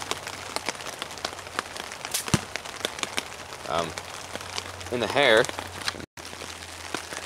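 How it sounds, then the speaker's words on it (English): Rain falling outdoors, a soft steady patter of drops on surfaces with scattered sharper taps, while people talk quietly nearby. "Oh, I thought the rain was stopping."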